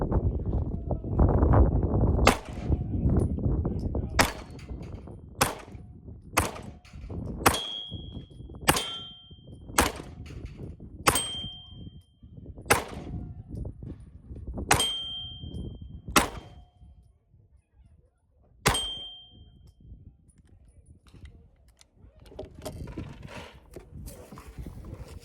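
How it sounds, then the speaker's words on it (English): A Ruger Max 9 Gen 2 pistol with a red dot fires a spaced string of about a dozen sharp shots. Each round strikes a steel plate with a bright ringing clang, against a low background rumble. "So I'm going to shoot on the plates real quick."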